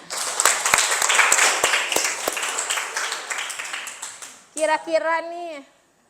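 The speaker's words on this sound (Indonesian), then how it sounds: "tepuk tangan semuanya" Classroom applause from students, a burst of clapping with a few sharp individual claps standing out, fading after a few seconds into a voice speaking.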